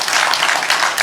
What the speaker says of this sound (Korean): 우리 김원총 저 위에 있는데 박수 한번 쳐주세요